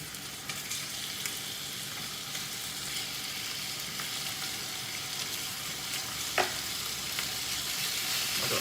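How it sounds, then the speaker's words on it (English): Beef steaks browning in a frying pan for a slow-cooked beef lasagne, a steady even sizzle at moderate volume with an occasional spatter or scrape, no voices. "now we're gonna brown off the meat before we put it into the slow cooker"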